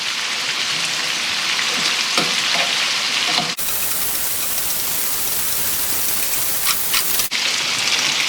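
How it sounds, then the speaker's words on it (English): Jumbo shrimps frying in a pan, a steady loud hiss and crackle of hot oil throughout, with a few brief pops. "this is how you want to cook your jumbo shrimps"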